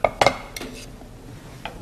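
A slice of dry toast is set onto a ceramic plate while shrimp canapés are prepared, giving a few sharp, close clinks of dishes and cutlery at the start, then lighter knocks fading to quiet.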